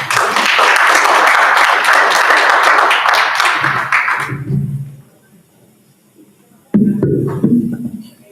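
Audience at the Lakota Media Summit applauding loudly for about four seconds, dense clapping that fades out, then a brief quiet before a short burst of clapping and room noise returns.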